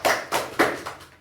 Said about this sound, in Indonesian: Tepuk tangan untuk Bagus